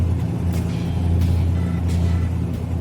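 Classic Corvette engine pulling hard up through the gears, a steady loud low rumble with shift surges, heard from close by inside the car.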